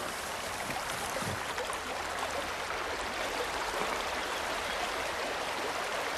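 A shallow stream flows around someone standing in the middle of it, a constant broadband rush and babble that stays even and close throughout, with no voices.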